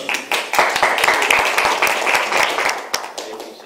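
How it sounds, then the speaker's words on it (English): An audience at a Toastmasters club meeting claps for a speaker, a dense burst of applause that swells quickly, holds for a few seconds and tapers off. "You can clap."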